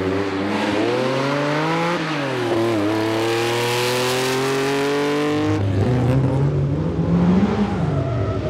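A Porsche 911 rally car at the Legend Boucles de Bastogne engine roars loud and close, revving steadily through rising gear pulls with a sharp shift near the end, no talk.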